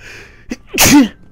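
A single sharp sneeze, loud and close, with a short breathy intake just before it.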